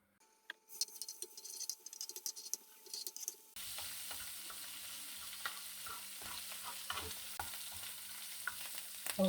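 Garlic hits hot oil left over from frying onions and breaks into a loud, steady sizzle after a few quiet seconds of soft clinks and stirring. The frying continues near and constant, with scraping stirs on top.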